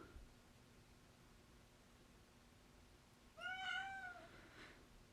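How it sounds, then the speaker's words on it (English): A house cat meows a few times in a short burst partway through, faint and somewhat distant against a quiet background hiss, with no talking. "Sorry about my cat meowing in the background."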